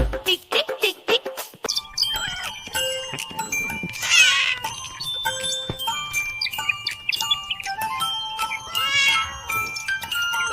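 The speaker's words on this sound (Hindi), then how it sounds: "बिल्ली करती म्याऊ म्याऊ" A cat meows several times within a Hindi nursery rhyme for children, the short cries standing out over a busy sung and instrumental backing.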